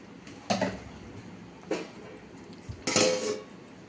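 A lid set on a cooking pot, a few metallic clinks and clatters spaced over a few seconds, close and moderately loud, the last knock the fullest, with quiet kitchen background and no talk.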